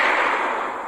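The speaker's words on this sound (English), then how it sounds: "That's Mike's gunshot." A gunshot sound effect from the low-budget monster movie Fungicide, one loud, close, noisy blast that decays over under a second, with no voices.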